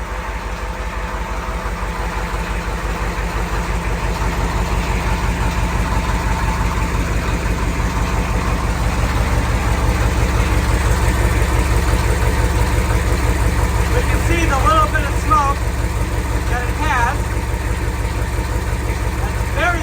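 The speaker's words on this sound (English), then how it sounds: "This is an old IDI diesel motor" Old IDI diesel truck engine idling on used motor oil, a steady low rhythmic clatter with a faint knocking pulse, close and constant, with someone talking over it partway through.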